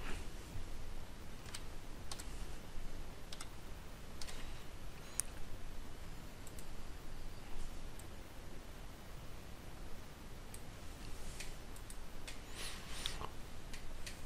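Quiet computer keyboard typing, a scattered run of soft clicks and key taps spread over a steady background hiss, with no talking.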